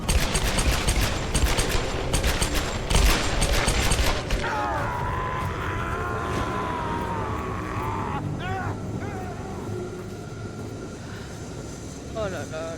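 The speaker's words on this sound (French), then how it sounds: "le double flingue de Lara Croft" Dual pistols fire in rapid bursts in a Tomb Raider-style action game, dense loud volleys in the opening seconds giving way to music and game effects, with a voice talking over it.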